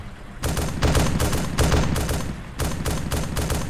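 Gunfire in the video game Arma 2 during a Humvee convoy engagement: loud, close bursts of rapid shots in several clusters, separated by brief pauses.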